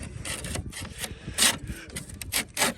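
Metal speed flash piece for a solar installation sliding up behind a slate roof tile, giving close, rapid scraping and rubbing bursts in an uneven rhythm.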